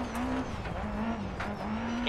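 A Ford Escort Mk2 rally car in the DiRT video game roars loudly and continuously, with a steady engine note and tires squealing and skidding on the surface.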